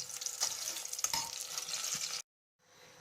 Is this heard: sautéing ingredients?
yes